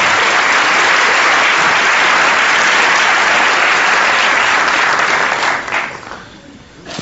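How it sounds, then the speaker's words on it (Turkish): A studio audience at a Turkish TV comedy show breaks into loud, sustained applause and cheering that fills the space, then thins out and fades toward the end. "Ne güzel, alkış, alkış."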